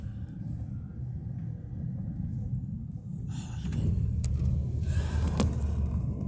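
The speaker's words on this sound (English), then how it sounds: "Look at this guy's car." A car on an Oregon coast road rumbling past, its low engine and tire roar building from steady to louder, close by, with no talk.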